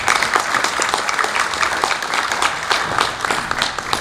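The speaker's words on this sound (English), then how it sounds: "so let's give them all a round of applause." Audience at a homeownership summit applauds its panelists with dense, sustained clapping that fills the room evenly from start to finish, loud and close with no talk over it.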